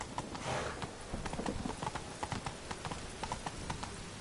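A horse gallops in The Witcher video game, with quick rhythmic clip-clop hoofbeats close to the listener. They drive on steadily over a faint rumble, with no voices.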